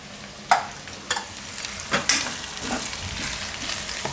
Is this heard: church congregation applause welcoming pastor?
no